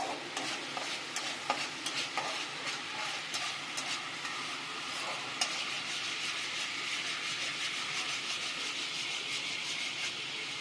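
Fish masala is stir-fried in a pan, with steady sizzling and the scrape of a spatula stirring throughout, close and continuous.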